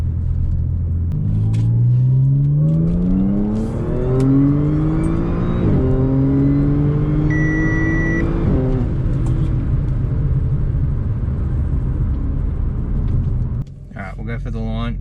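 A tuned B8 Audi S4 with a DSG gearbox accelerates hard, its engine note climbing through several rising sweeps with quick gear changes between them, loud and close from inside the cabin, easing off near the end.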